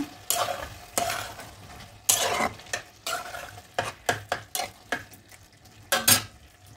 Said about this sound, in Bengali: কিছুক্ষণ বাদে আমি ঢাকনাটা খুলে এতে দিয়ে দেবো ভেজে থাকা চিংড়ি মাছগুলো। এবার এইভাবে নাড়িয়ে নেব।